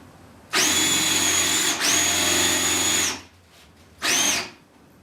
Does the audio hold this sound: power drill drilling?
yes